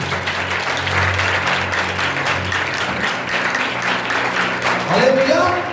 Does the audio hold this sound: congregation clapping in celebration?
yes